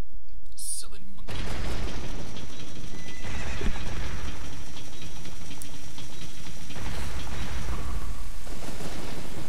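Horse from the game Ocarina of Time neighing with clip-clopping hooves, a loud game soundtrack over a steady bed of noise, no voices.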